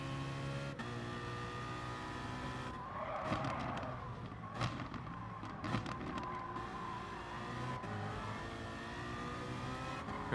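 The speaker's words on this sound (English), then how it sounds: "As we lock up the tires once again." GT3 car in a racing game at Mount Panorama, engine droning and downshifting while tires lock and skid under braking, a few bursts of screech over a steady motor hum.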